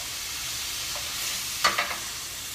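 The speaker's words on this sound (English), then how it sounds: "I'm going to add my tomatoes and let them cook for a few minutes" Tomatoes hitting a pan of sautéed onions and garlic give a steady, soft frying sizzle, with a few brief scraping stirs near the end.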